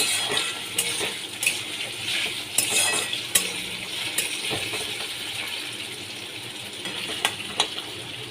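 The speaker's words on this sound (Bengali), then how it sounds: "সয়াবিনগুলোকেও আমি ভালো করে একটু ভেজে নিচ্ছি" Soybean chunks fry in a pan with a continuous sizzle, punctuated by intermittent metallic taps and scrapes of a stirring spoon, heard up close with no talking.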